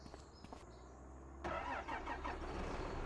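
A tractor engine in a farming video game starts up and settles into a steady mid-pitched running drone, rising in loudness partway through after a quieter stretch of rumbling and small clicks, with no talking.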